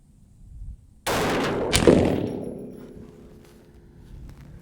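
A single sharp gunshot from a .350 Legend rifle cracks loudly at an outdoor range, ringing out with a decaying echo over faint background noise.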